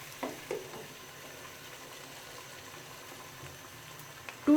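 Half a kilogram of beef cooking in a pot for palak gosht, a faint steady sizzle and bubbling close by, with a couple of soft clinks and no talking.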